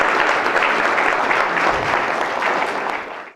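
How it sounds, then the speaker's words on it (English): A live audience at a virtual reality presentation gives sustained applause. Dense, even clapping holds steady for a few seconds and then cuts off abruptly. "Let's give Julian a big round of applause."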